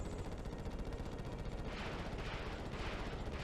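Rapid missile and blaster fire in a spaceship battle in the Ratchet & Clank video game, a dense, steady rattle of shots with brighter bursts toward the end, fairly quiet throughout.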